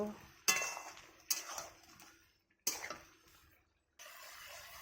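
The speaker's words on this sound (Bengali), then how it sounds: "ঢাকাটা খুলে দেখছি, একটু উল্টো পাল্টে দেব।" Pot lid lifted off a curry of loach fish with jackfruit seeds, then the fish turned over, giving several sharp metallic clinks and clanks, each fading quickly, with quiet gaps between.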